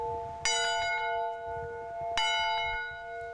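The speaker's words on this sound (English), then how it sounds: "A bell brings the 25 guests to meals" A bell rings out twice, each clear strike followed by a long, ringing decay, with quiet background noise between.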